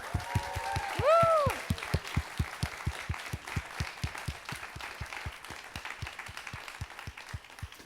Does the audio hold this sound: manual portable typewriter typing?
no